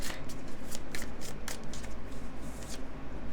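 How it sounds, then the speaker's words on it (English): Tarot cards shuffled and drawn during a pick-a-card reading, a steady run of close, rapid papery riffles and flicks that continues throughout with no talking. "Let's draw just a few more tarot cards"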